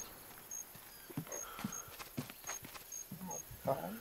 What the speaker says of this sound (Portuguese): Tá ouvindo o bicho pisando, galera?